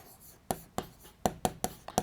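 Marker or chalk strokes tapping and scraping on a classroom board during a physics lesson, six or seven sharp, close strikes in an uneven rhythm, heard alone without talk.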